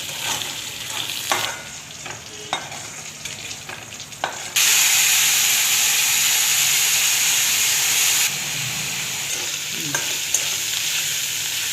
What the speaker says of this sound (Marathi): बोंबील तळताना आपल्याला बारीक गॅसवर तळून घ्यायची आणि मस्त कडक होऊ द्यायचे